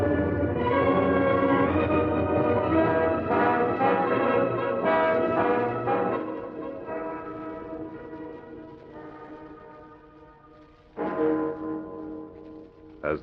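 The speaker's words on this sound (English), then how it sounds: "the bell in a nearby steeple began to toll the midnight hour" Church bell tolling midnight from a nearby steeple in an old radio drama, a sustained ringing tone that fades slowly, followed by a single fresh strike near the end.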